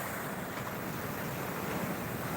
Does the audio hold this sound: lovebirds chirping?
no